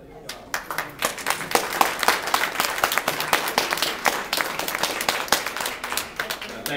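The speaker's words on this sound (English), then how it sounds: "I'd like everyone to clap for the past board." Applause from an audience at a club meeting sounds as steady, dense clapping from many people in a room, holding for several seconds.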